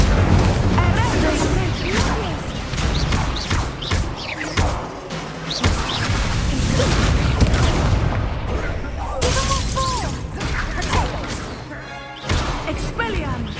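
Dense bursts of blasts, booms and crackling impacts from Confringo spell combat in Hogwarts Legacy, loud and continuous across the scene with several sharp explosive hits layered over game music and effects.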